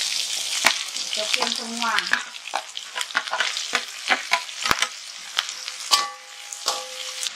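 Shallots, garlic and orange bird's-eye chili stir-fry in a pan with a crisp sizzle and sharp clicks of a utensil against the pan, and a short spoken remark partway through.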